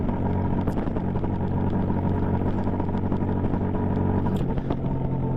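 A Royal Enfield INT650 twin-cylinder motorcycle with the standard exhaust rumbles steadily while riding, a close, continuous low engine drone with a brief shift in pitch near the end.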